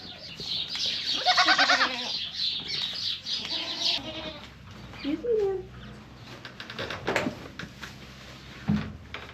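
Goats bleat a few times nearby, interspersed with clucking chickens, scattered knocks and quiet farmyard rustling.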